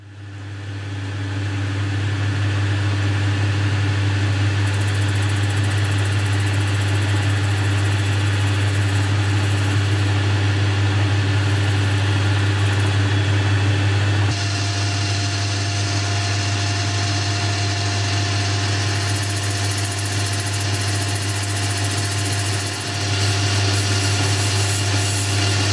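A lathe turns the outside of a small tramming gauge part, giving a loud steady machine hum with a constant motor drone and a faint cutting hiss that shifts partway through.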